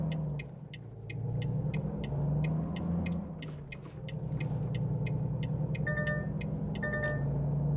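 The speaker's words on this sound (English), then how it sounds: "I forgot this truck has a blind spot warning" Truck blind spot warning in a driving game: a steady series of short, evenly spaced electronic beeps over the low rumble of the truck engine, with a few brighter chimes near the end.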